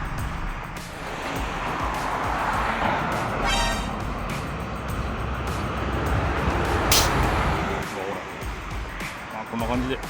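Cars rush past at speed on a road merging onto the main line near Takeoka Tunnel in Kagoshima, a steady loud roar of traffic with a brief horn toot, while someone talks over it.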